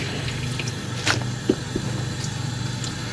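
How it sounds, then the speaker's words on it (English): Collard greens being swished and rinsed in a bowl of water, soft sloshing and a few splashes over a low steady background hum, no talk. "All you do, this is how I wash my greens."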